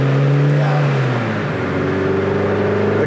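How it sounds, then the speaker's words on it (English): A BMW E30 M3 engine revs up and drops back, the clean, non-droning exhaust tone shifting smoothly through the gears, loud and close, with a carbon air box adding induction sound. "The exhaust is very clean, not drony at all."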